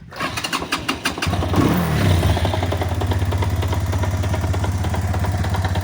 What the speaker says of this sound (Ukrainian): Слухайте звук цього двигуна. Це такий спортбайк з оншеновським двигуном китайським 250.